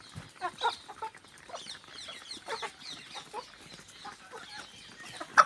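A flock of farm chickens, Israeli-breed birds kept in a rural Thai yard, clucks in a continuous chatter of short, overlapping calls at moderate distance, with no talking.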